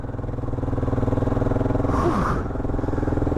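A Kawasaki KLR 650 motorcycle's single-cylinder engine idles or runs steadily nearby in icy winter conditions, a rapid, even thumping pulse with a brief whooshing rise partway through.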